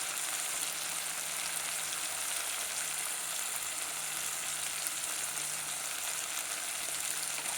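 Tomato pieces with turmeric, coriander powder, chilli and salt frying in a pan for dal khichdi, a steady close sizzle carrying on evenly throughout with faint stirring.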